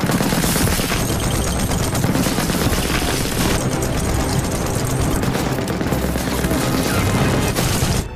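In a battle scene from the war film Panfilov's 28, a machine gun pours out dense, loud, sustained gunfire mixed with booms and crashes, forming an unbroken roar of combat.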